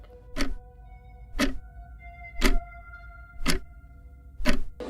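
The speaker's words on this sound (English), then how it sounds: "I was interrupted by the steady ticking of the clock." A clock ticks steadily, five evenly spaced sharp ticks about one second apart, close and clear against a quiet background.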